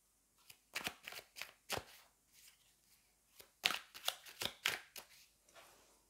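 Tarot cards are shuffled and drawn in a quiet room: a dozen or so crisp, close riffles and snaps in uneven bursts, separated by short silences.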